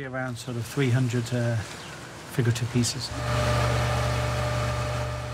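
A motorboat engine near Playa Blanca settles into a steady, droning hum after a few seconds of people talking, holding loud and even to the end.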